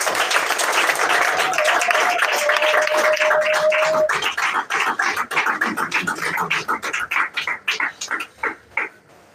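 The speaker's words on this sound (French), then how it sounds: "On les applaudit." Applause at a civil society appointment ceremony, with a crowd clapping loudly while a voice speaks over it. The clapping then thins into scattered individual claps that fade out.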